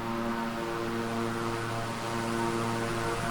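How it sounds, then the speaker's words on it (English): A King Air 350i twin-engine turboprop in a flight simulator game drones past as a steady, loud propeller hum with strong tonal whine, pitch shifting slightly as it goes by. "Hear the Doppler having a little bit of, an effect on the sound."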